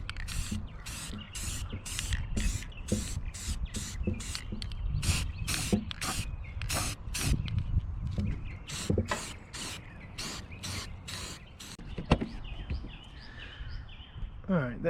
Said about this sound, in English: I'm gonna hit these seams with matte black spray paint